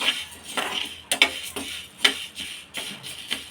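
Coriander and cumin seeds dry-roast in a pan while a spoon stirs them, giving repeated light scrapes and metallic clinks in an uneven rhythm, close and moderately loud, with no talking.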